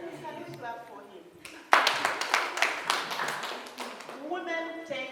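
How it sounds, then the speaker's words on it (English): A lecture audience of university students claps for a fellow student, a sudden burst of sharp, scattered hand claps that starts partway through and slowly thins out, with a voice speaking before and after. "Can you clap for him?"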